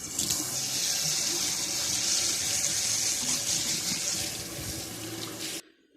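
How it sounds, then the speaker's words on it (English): Steady rush of warm water pouring from a tap into a sink, continuous and close, cutting off abruptly near the end. "so we got some warm water"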